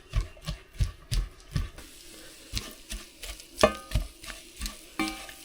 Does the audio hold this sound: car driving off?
no